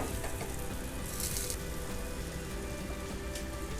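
Butter sizzling in a pan on a Blackstone griddle, a steady soft crackle and hiss like light rain, with a brief louder spitting burst partway through.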